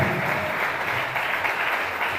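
A church congregation applauds during a Sunday family worship service, a short steady wash of clapping from many people throughout, with no clear voices.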